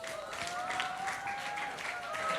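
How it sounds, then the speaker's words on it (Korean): Applause from an audience at a student academic festival presentation, a steady dense patter of clapping filling the whole stretch at moderate loudness, with a faint murmur of voices underneath. "자, 박수 부탁드립니다."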